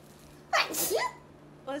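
A single close, sharp sneeze burst, followed moments later by a brief short vocal sound.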